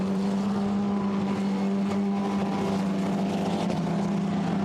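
Formula Renault Eurocup race cars roar along the Mistral straight at Paul Ricard, a steady loud engine drone holding a strong low tone throughout with no break.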